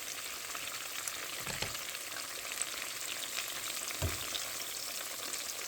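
Catfish fillets fry in hot oil, giving a steady, dense crackling sizzle that runs throughout, with a couple of faint low bumps from the pan and no talking.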